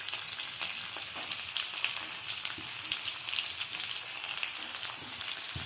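Small onions fry in oil with curry leaves, giving a close, continuous sizzle dotted with fine crackles and steady throughout, with no talking.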